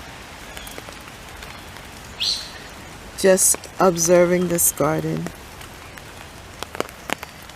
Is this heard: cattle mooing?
no